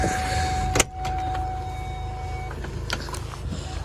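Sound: car parking sensor beeping

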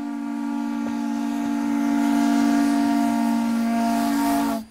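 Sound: old steam train

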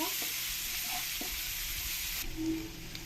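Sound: chopped onions frying in a pan

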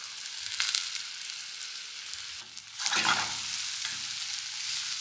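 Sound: sauteing pimento, scotch bonnet pepper and carrot in a pan

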